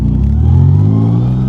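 A BMW E36 with a turbocharged M50B30 inline-six runs with a loud, low, rumbling engine note that rises briefly in a short rev, close to the listener.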